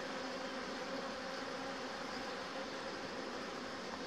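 Honeybees buzz steadily at an open hive during a brood inspection, a dense, continuous drone close by with no talk over it.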